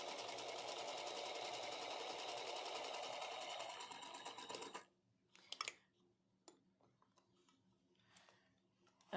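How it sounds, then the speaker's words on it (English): Sewing machine stitching a quilt, running steadily and loudly for about five seconds, then stopping, followed by a few scattered clicks and handling sounds. "Let me sew."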